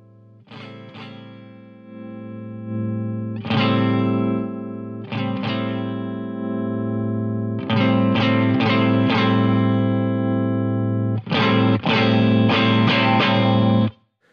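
Electric guitar chords ring through a Boss CE-1 reissue chorus preamp in low mode, strummed in loud sustained bursts with a warm, slightly overdriven, shimmering tone.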